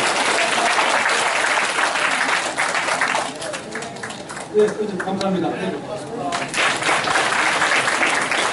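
An audience at a political briefing in a large Olympic gymnasium applauds loudly, the clapping thinning briefly mid-way under a speaker's voice before swelling again.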